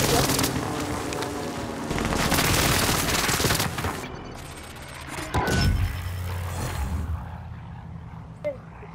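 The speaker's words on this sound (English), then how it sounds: "Allied precision airstrike incoming." Precision airstrike in Call of Duty Modern Warfare: a dense barrage of loud booming explosions and gunfire-like bursts for several seconds, then a sharp blast and scattered fading crackles.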